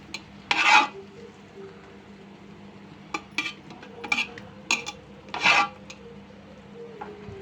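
Hot rice being stirred into oil and spice paste in a pan, giving several short scraping, sizzling strokes of varying strength over a quiet background hum, with no talking.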